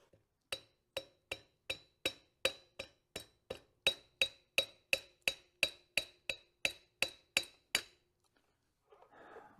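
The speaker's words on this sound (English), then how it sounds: "use the rubber mallet to push it all the way in" A rubber mallet taps a part into a Harley Davidson EVO engine, about twenty sharp, evenly spaced strikes with a slight ring, close and clear, followed by a brief rustle.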